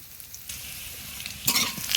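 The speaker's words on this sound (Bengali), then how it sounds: "এবার এই তেলে আমি আলুগুলো দিয়ে দিলাম।" Potatoes dropped into hot oil after fish has been fried, a steady close sizzle that bursts louder near the end as the pieces hit the oil, with no talk.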